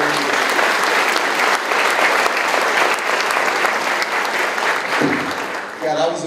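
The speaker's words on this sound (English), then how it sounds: "Round of applause, thank you very much." Loud applause from a school district breakfast audience in McAllen, Texas, dense steady clapping filling the room for about six seconds, tapering briefly near the end before a final burst.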